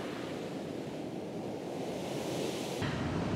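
Broad, steady roar of sea waves breaking on a shore during rainy off-season weather, a continuous wash of noise that swells slightly louder near the end, with no voices.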